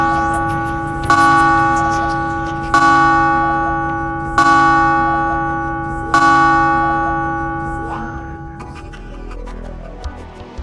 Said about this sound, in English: From 5 o'clock in the evening, the bells will strike the hour.